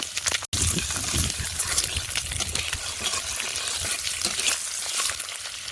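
Boiled country chicken eggs seasoned with salt and turmeric frying in hot oil in a pan, a loud continuous sizzle and crackle with occasional stirring scrapes, close up and without talk.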